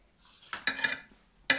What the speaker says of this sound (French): on retire la cuillère parce que ça faisait trop de bruit